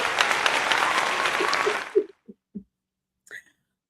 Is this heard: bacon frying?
no